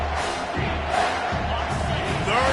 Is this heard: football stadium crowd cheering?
yes